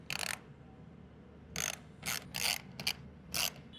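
A ratchet loosens the 4mm bolts holding the small snorkel cover on a Himalayan 450 motorcycle, giving several short, quiet clicking bursts separated by pauses.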